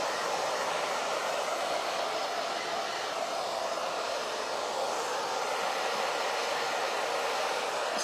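A hair dryer blows steadily to dry Mod Podge on a rustic farmhouse decor craft, giving a loud, close, continuous rushing whoosh that holds for about eight seconds with no talking.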